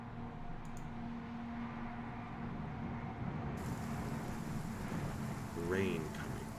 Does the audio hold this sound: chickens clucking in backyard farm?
no